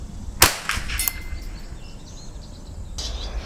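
Ruger 10/22 rifle outdoors fires two sharp, close cracks a fraction of a second apart, then a quieter report about two seconds later, with faint birdsong in the background.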